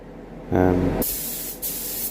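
Spray gun laying a light dust coat of paint over a custom modified BMW engine cover, a short loud hiss that drops to a steady softer spray with a brief second burst.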